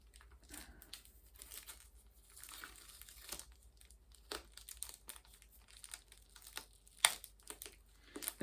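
Tape peels and crinkles off a Japanese Shaman King Blu-ray box set, a close run of soft rustling, ripping and crackling with a sharper snap near the end.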